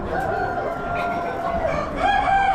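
A mixed lot of hens, including black Americanas, at an Amish animal auction keep up steady, overlapping clucking and calling close by, growing a little louder toward the end.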